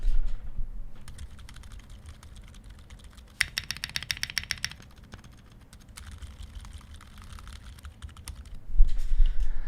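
Typing on a Tofu Junior keyboard fitted with silent-type switches: a quiet, rapid stream of soft muted keystrokes with a few slightly louder bursts, close and alone without talk.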